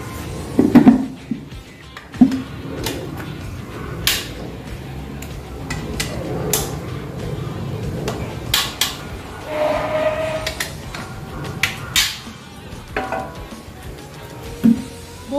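Tools loosening the two nuts and three bolts on the exhaust of a Yamaha Nmax V2 scooter: scattered metallic clinks, ratchet clicks and knocks at close range over a low background hum, with some brief talk.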